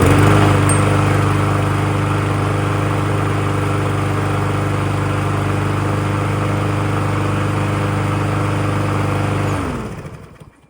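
A Troy-Bilt TB230 725 EX lawn mower engine with a newly replaced carburetor runs loud and steady close by, a constant droning hum that then cuts off and winds down at the end.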